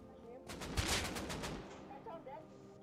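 Gunfire in the Rust Console Edition video game during a team raid on a garage: a quick burst of several sharp shots packed into about a second, followed by quieter game noise.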